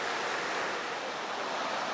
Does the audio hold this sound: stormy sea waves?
yes